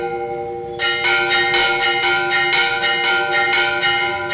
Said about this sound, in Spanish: El sonido de las campanas que oyen en la imaginación los lectores de La Mala Hora sonaba también para los habitantes del pueblo.